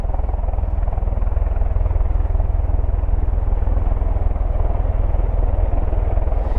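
Loud, close, continuous drone of V-22 Osprey engines running on an airfield, a dense throbbing rumble that holds fairly steady with no voices over it.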